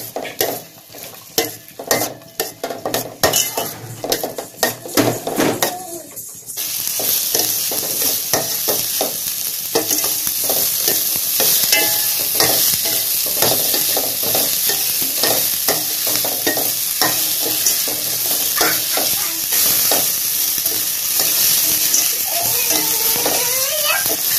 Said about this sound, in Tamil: இப்போ வெண்டைக்காயை சேர்த்துடலாம். இது நல்லா வதங்கட்டும்.